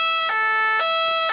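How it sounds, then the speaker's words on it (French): Loud, close siren of a big red fire engine arriving, repeating a two-tone high-low wail that fills the moment, no speech. "La grosse voiture rouge des pompiers arrive."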